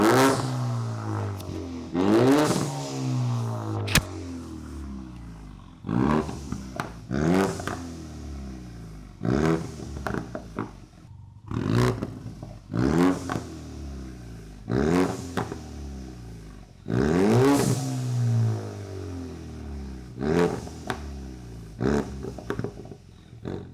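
A warm Ford Mustang EcoBoost with a 13.2 pound titanium exhaust revs repeatedly, about a dozen sharp throttle blips that rise and fall back to idle, loud and close with short pauses between.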